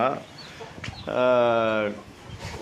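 A native-breed country chicken clucks nearby with a drawn-out, tonal call, followed by a few softer clucks and rustling around it.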